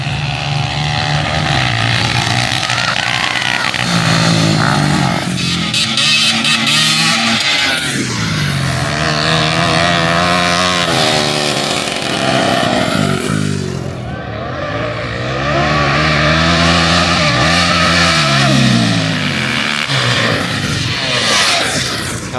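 Postie motorcycles racing at a motorcycle festival, several small engines buzzing and revving together with changing pitch as they pass and accelerate, loud and continuous, with no talking.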